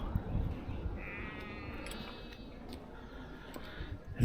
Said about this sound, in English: Any noise you can hear is sheep.